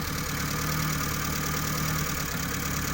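A car engine idles steadily after being started, with an even, continuous mechanical hum and a slight knocking texture, close and alone throughout.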